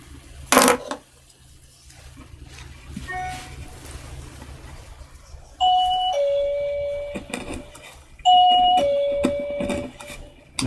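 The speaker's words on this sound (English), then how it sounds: "So it keeps triggering the, you know, the bell." An electronic doorbell chime, set off repeatedly by someone going up and down stairs, sounds in several clear two-tone ding-dong rings with a sharp knock early on, in an indoor room with low background noise.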